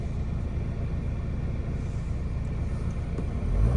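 Steady low road rumble and engine drone from inside a 2009 Honda Civic 2.2 CTDi diesel as it drives along, continuous and even throughout, swelling slightly louder at the very end.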